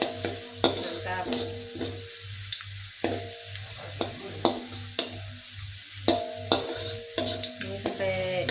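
Shallots and garlic fry in a pan while browning, giving a steady close sizzle with a low hum beneath and regular scraping clinks of a spatula stirring them.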